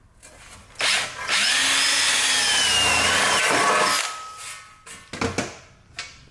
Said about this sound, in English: I got the drill for 1/8 pipe tap, which is